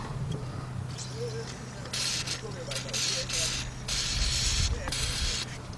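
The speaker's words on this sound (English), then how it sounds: "First we gotta put some WD-40 on it." Several bursts of hissing spray come from a WD-40 aerosol can held upright, applied to a 2001 Ford Windstar front strut, each lasting about a second, with short pauses and faint mechanical clicks between them.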